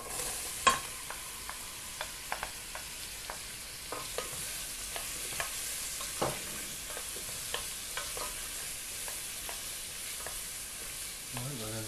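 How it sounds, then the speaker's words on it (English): Three roughly chopped brown onions fry in a pan with a steady, soft sizzle, while a utensil stirs them with light, irregular clicks and scrapes. "Alright, we're gonna fry it off to cook."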